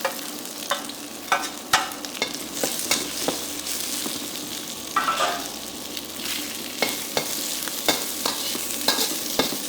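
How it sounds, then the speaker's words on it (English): Ginger, garlic, chili and white spring onion parts stir-fried in oil in a pan for a salmon stir fry, with a steady close sizzle and sharp spatula scrapes and taps at an uneven rhythm. "stir fry the ginger, garlic, chili, and the white parts of the spring onions"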